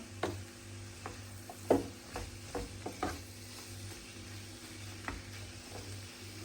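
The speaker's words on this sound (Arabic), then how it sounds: "صافي نحركها مزيان. تخلط الخضيره ديالنا، بدات كتحمر." Vegetables sizzling in a frying pan for Chinese-style vermicelli, with a spoon or spatula scraping and knocking against the pan in irregular strokes over a steady low fry hiss.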